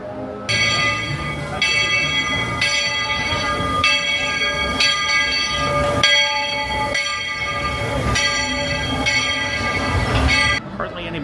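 A Disney theme park railroad train rumbles along steadily while a rhythmic ringing bell-like tone repeats about once a second, with faint voices in the background.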